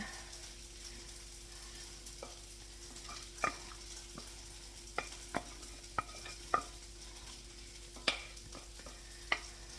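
Scrambled eggs are scooped from a frying pan onto a plate, with a faint hiss from the pan under sparse, sharp scrapes and taps of a utensil, quiet and close, and no talking.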